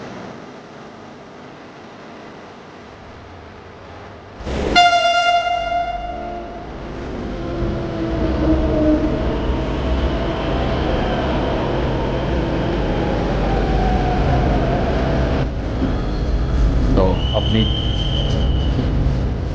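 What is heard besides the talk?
metro train running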